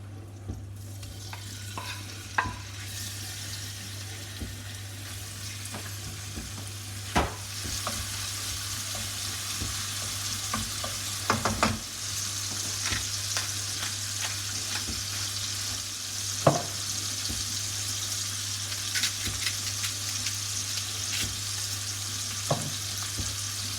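Rendered bacon fat sizzles steadily in a pan set back on the heat for chicken risotto, a constant frying hiss with a low steady hum beneath and occasional clicks and taps of a utensil.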